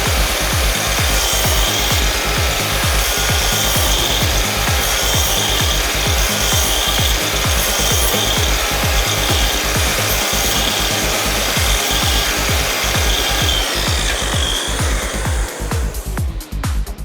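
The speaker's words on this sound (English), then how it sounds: "we can cut housings across the width of timber really accurately and of course cleanly as well" Festool Kapex KS 60 sliding compound mitre saw cutting a housing across timber, a loud steady rasping cut with rhythmic low pulses running throughout, easing off and thinning out near the end.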